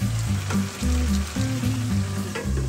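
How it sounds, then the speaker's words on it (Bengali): Mutton curry sizzles in a cooking pot as it is stirred, a steady close frying crackle over a low tonal background hum, with no talking. "আমি একটু নাড়িয়ে দেবো।"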